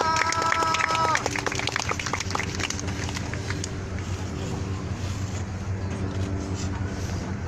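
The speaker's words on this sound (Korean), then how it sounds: "큰 박수로 맞아주십시오." Applause welcoming performers at an outdoor rally rises as a steady, dense wash of clapping from a crowd, with a short musical tone at the start and a voice talking over it.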